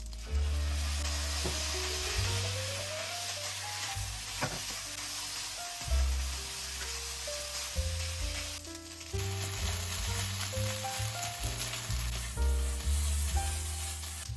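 Sauce poured into a hot pan with char siu pork crackles into a continuous sizzle that runs under loud background music throughout.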